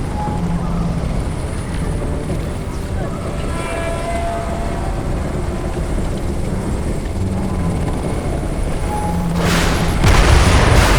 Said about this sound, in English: the strike fighters couldn't stick around long enough to kill this helicopter.